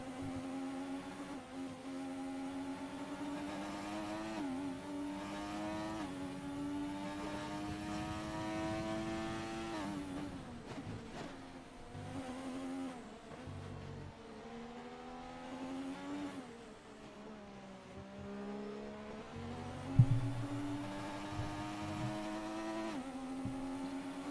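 Race cars roar through the final lap of a racing video game, their engines whining and rising and falling in pitch as they shift gears, steady and fairly loud, with a sharp bump near the end.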